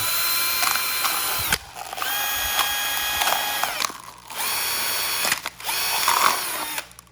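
An electric drill bores a hole in the bottom of a small soju cup, whining in several short bursts with brief stops and a changing pitch as the bit bites.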